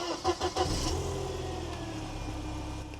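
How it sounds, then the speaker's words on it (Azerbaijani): A Mercedes-Benz 190E with its fuel-distributor-injected engine fires with a few quick cranking pulses, then settles into a smooth, steady idle heard close by, with no talk. "Belə işləyən motor çoxdan da eşitməmişdim də 190-ın"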